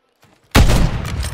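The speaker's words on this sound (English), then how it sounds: "They're both taking shots at the same time, so it's up. Wow, taking fire!" A sniper shot in a video game, a single sudden loud crack after near silence, followed by a rumbling echo and a second fainter report.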